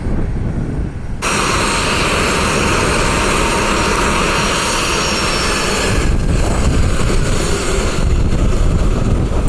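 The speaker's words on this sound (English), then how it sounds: "we'll get it taxiing over here and taxiing out" A Southwest Airlines jet in the special Imua One livery taxis at Columbus airport in Ohio, its engines giving a loud, steady roar close by that swells slightly partway through, with no talking.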